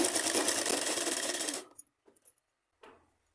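A sewing machine stitches salwar fabric, running in one steady whirring burst for about a second and a half, then stopping, followed by a few faint clicks and handling sounds.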